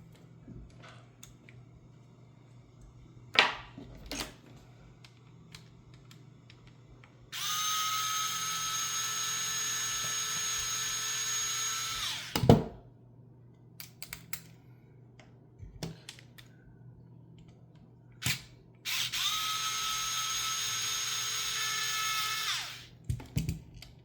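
A small power tool drives out bolts from the axle links of a TRX-4M RC crawler: two bursts of high, whining drilling, each lasting several seconds, separated by quiet clicks and handling noises at close range.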